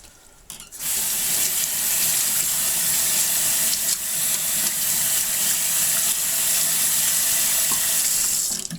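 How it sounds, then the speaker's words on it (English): A tap runs steadily into a sink to soak a gas mask harness in soapy water, a continuous rushing flow of water starting abruptly and holding for several seconds, close and loud. "Submerge it in water."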